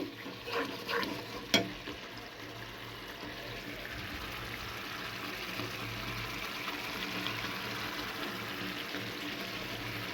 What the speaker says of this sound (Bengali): মশলাটাকে কিন্তু খুব ভালো করে কষিয়ে নিয়েছি